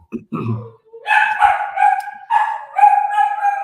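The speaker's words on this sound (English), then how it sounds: "Is that your dog, Tim?" A dog barks and yips close by in short bursts, a few sharp barks giving way to longer whining yelps, loud and alone with no talk.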